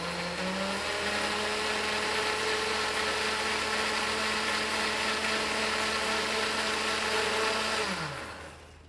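A blender whirs steadily as it purees lime juice, yogurt, coconut milk and honey into a pie filling, a loud continuous motor drone with a pitch shift near the start, winding down and stopping at the end.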